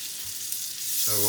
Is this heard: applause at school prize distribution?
no